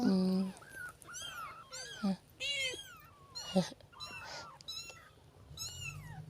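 A mother cat and her kitten give repeated meows, several rising and falling calls in a row, some high and thin, close by, with soft voices talking now and then in the background.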